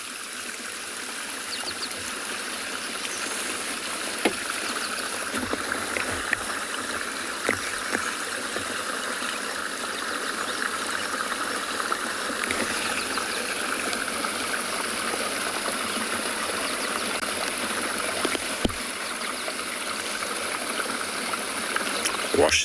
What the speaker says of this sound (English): It's very peaceful listening to flowing water.